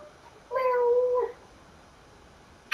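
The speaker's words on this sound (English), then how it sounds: "She meowed once at another." A cat gives a single clear meow, near and fairly loud, then quiet.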